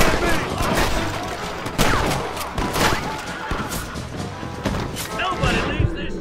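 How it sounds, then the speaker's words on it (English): Rapid gunfire and shouting in a Red Dead Redemption shootout form a dense, chaotic din of repeated shots over steady background action, loud and continuous, with a voice speaking over it. "Stop shooting at me!"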